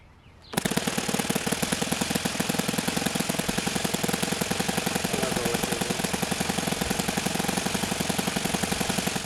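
An OS FS-91 Surpass four-stroke model airplane engine catches after a brief quiet moment and runs loud and close, a steady rapid chattering put-put that holds without letup.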